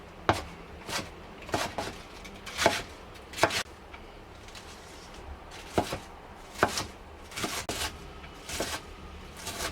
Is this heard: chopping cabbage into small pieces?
yes